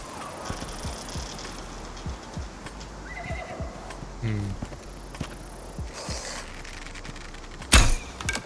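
A horse in the video game Icarus whinnies loudly up close amid clip-clopping hooves and scattered footsteps, with a sharp burst of noise near the end.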